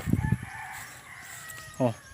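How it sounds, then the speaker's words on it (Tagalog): Chickens cluck in short, throaty bursts: a quick pair at the start, a quiet stretch, then one more cluck near the end, fairly close by. "May mga manok."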